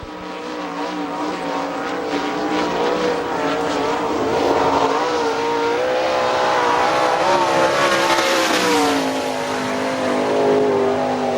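A 410 sprint car runs a qualifying lap at Hartford Speedway, a loud, sustained engine roar with rising and falling pitch as it circles the track, holding steady near and strong with no talk.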